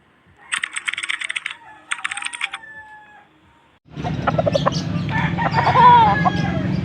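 Chickens and roosters at a poultry market, busy clucking and crowing amid a crowded background din, preceded by rapid keyboard-like tapping bursts in a quiet space.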